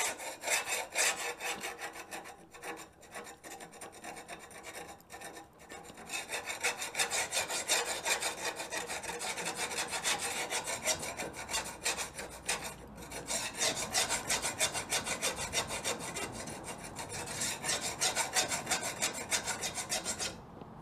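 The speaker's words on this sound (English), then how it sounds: "Basically, I'm just trying to get rid of the scale and scrape it back to uniform width." Rasping, scraping strokes of a tool working scale off a cable damascus rapier blade, a steady dense run of rough metal abrasion that carries through nearly the whole stretch with brief pauses, close and fairly loud with no talking.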